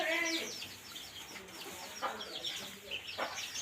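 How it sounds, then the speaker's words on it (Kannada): Native country rooster and hens clucking and calling inside a livestock shed, a quick cluster of calls at the start and scattered softer clucks after, close by with some ambient noise. "ಇದು ನಾಟಿ ಹುಂಜ"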